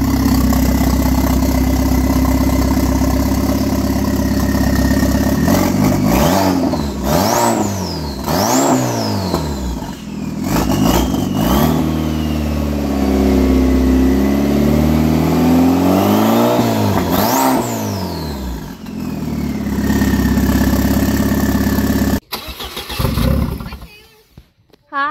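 An Audi A4 B6 with a garage-built biturbo conversion idles loudly up close, then is revved repeatedly in sharp rising and falling bursts before settling, ending with a few clunks.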